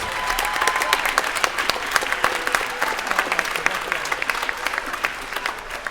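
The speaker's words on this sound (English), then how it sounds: "give her a big round of applause" Audience applause at a school orchestra spring concert, dense sustained clapping from a large crowd for about six seconds, with a few brief voices mixed in.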